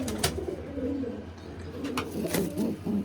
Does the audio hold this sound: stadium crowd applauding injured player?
no